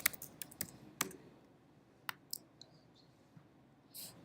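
A computer mouse double-clicks on layers in a digital painting program, giving sharp, quiet paired clicks spaced irregularly with soft keyboard-like taps in a quiet room.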